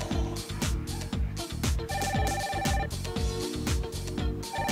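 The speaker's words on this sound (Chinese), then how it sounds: "这个时候谁打电话来？真扫兴。" A telephone rings in a Taiwanese TV drama scene, rapid bell-like trills repeating in steady bursts, loud and close over a busy musical background, with no talking.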